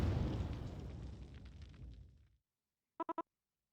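A video game bomb blast rolls out in one long, loud, decaying roar that fades to silence over a couple of seconds, followed by a few short electronic beeps.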